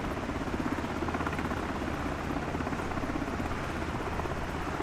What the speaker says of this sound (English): looks like the Chinook is actually showing up now